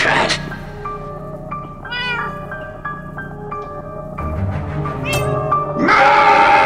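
A cat meows repeatedly in the video game Minecraft: Story Mode, clear tonal mews with game music and effects around them, loud and close.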